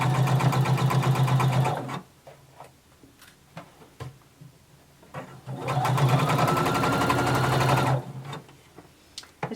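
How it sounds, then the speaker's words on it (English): A sewing machine stitches a seam with a 5/8 inch allowance in two steady, loud runs of several seconds each, with a quieter pause and light handling sounds between. "you're going to sew using 5/8 of an inch seam allowance"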